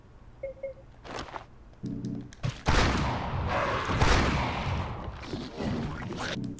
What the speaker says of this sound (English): I'm gonna use the freaking rifle on this thing